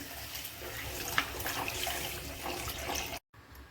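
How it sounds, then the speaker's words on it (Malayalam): Hot water pours steadily into a Kerala-style fish curry base (meen mulakittathu), a continuous close splashing stream lasting a few seconds before a sudden brief silence. "ഞാനിവിടെ ചൂടുവെള്ളമാണ് ഒഴിച്ചു കൊടുക്കുന്നത്"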